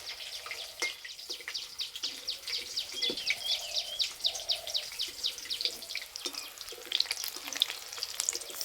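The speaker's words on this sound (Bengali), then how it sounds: "এই যে ভাজা হচ্ছে, দারুণ সুন্দর গন্ধ বেরিয়েছে।" Soybean pakoras deep-frying in hot oil, a steady close crackling sizzle with dense popping bubbles throughout, no talk.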